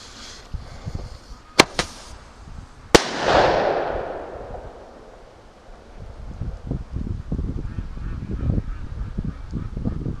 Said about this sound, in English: Alright, I'm going to set this grenade off.